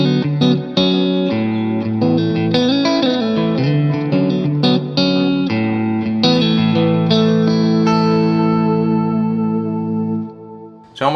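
An electric guitar played through a Fractal FX8 plays a chordal riff with a delay effect, notes repeating and trailing off, ending on a long sustained ring that fades out.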